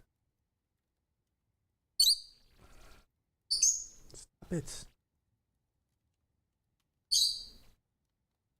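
Pet birds chirping loudly in short, sharp bursts indoors, several shrill calls separated by silence, with a person speaking briefly between them.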